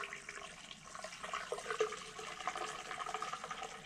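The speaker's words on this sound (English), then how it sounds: "I got a funnel here. I'm gonna start pouring the bleach in." Bleach poured through a funnel into a water system, a soft continuous trickling and gurgling of liquid that swells and fades slightly as the pour goes on, close by and fairly quiet, with no talking.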